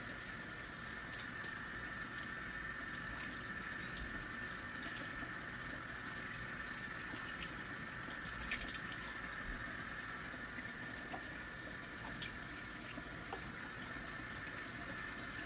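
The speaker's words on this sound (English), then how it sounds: "After you let them strain a little bit, you want to drain that water off of there." Water drains and trickles off freshly washed collard greens in a sink, a steady hissing wash that runs on without a break at low level, with no voices.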